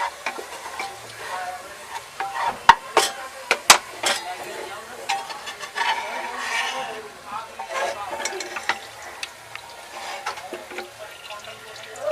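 Onions fry golden in hot oil, with crackling sizzle, stirring clatter and sharp scraping clicks throughout, loudest in bursts near the start.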